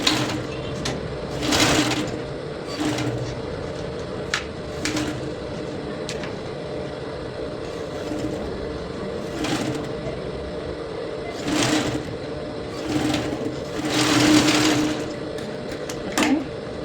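A sewing machine stitching a corset seam, a steady mechanical whir running throughout with periodic louder surges as the needle runs, close by, with occasional faint speech.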